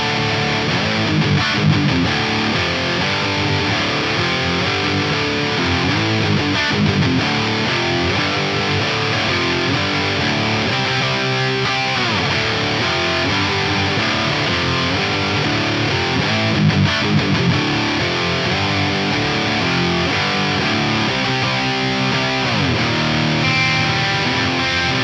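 Electric guitar played through an A/DA MP-2 preamp in fat high gain mode gives a thick, heavily distorted tone, continuous and loud with sustained chords and riffs throughout.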